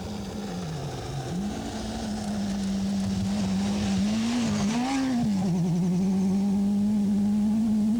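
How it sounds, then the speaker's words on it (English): A Rothmans Porsche rally car at the 1984 Dubai International Rally bounces across a dried-up riverbed, its engine holding a steady droning note with brief pitch swings as the revs rise and fall, loud and continuous throughout. "The beautifully sounding Rothmans Porsche of Al-Hajri bounces across a dried-up riverbed, still in the lead."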